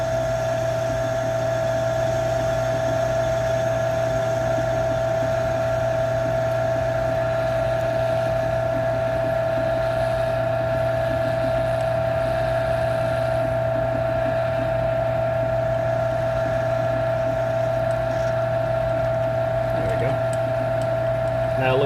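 A metal lathe faces off a saw cut on a forklift A/C compressor drive coupler, a steady machine hum with a sustained tonal whine and faint irregular cutting chatter running throughout.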